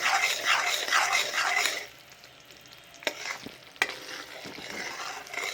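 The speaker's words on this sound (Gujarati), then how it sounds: "ગોળ હલાવીશું" Jaggery and ghee being stirred in a pan for broken wheat sukhadi, with a loud scraping rustle at first, then a quieter simmer punctuated by two sharp clinks of the spoon against the pan.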